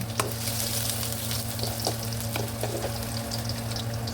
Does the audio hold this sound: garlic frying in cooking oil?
yes